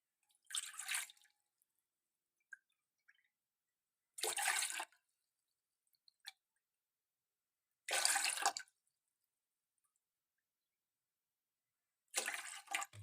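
Water is poured four times in separate bursts of about a second each, a close splashing trickle with quiet gaps between, measured out as cups for guava leaf tea.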